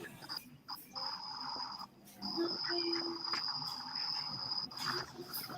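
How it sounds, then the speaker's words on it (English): Crickets chirp in a steady, high-pitched trill that runs through most of the stretch, broken by short pauses, with faint low background noise beneath. "Enjoy the sounds of cricket."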